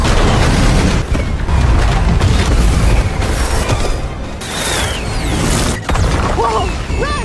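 Loud booms and crackling bursts of fireworks go off one after another in a dense, chaotic barrage, with a short shout near the end.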